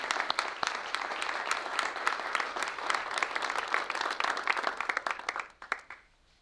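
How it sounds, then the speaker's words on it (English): A crowd at a learning commons dedication gives a round of applause, with steady, moderately loud clapping for several seconds, then scattered last claps as it dies away. "we can all give Mary a round of applause too and thank"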